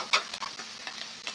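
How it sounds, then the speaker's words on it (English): Mushrooms frying in a pan, a steady close sizzle with brief scraping and stirring clicks over the hiss, no talking. "mushrooms frying off"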